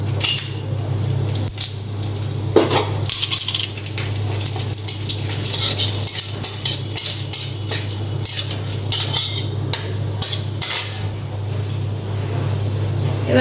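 Spices fry in about three spoons of ghee in a pot for a Bengali pork biryani, with a steady sizzle under repeated metal spoon scrapes and clinks against the pot.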